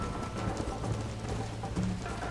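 A horse galloping in Red Dead Redemption, its hooves beating in a steady, rapid clip-clop rhythm over continuous outdoor ambience, moderately loud and close, with no voices.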